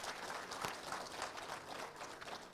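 A crowd at a training pass-out parade in Embakasi West, Nairobi, applauds in a continuous, fairly distant wash of clapping that carries on evenly without speech.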